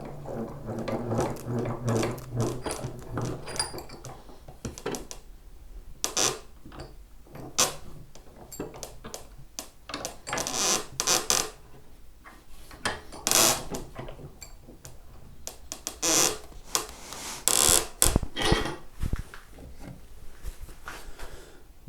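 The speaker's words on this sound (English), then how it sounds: "just get it in the vise best I can" Guitar neck for an ES 335 build being clamped in a workshop vise, with irregular wooden knocks, scraping handling and ratcheting clicks of the jaws tightening, moderately close and without talk.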